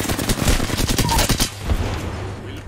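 Rapid automatic gunfire in the battle royale shooter Apex Legends, loud close bursts of shots for the first half that fade into quieter scattered fire.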